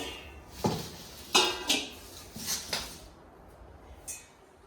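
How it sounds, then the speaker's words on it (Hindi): Dishes and utensils clatter in an ashram kitchen, a handful of sharp clinks and knocks spaced irregularly at moderate distance, with quiet room tone between them. "ये आश्रम का किचन है"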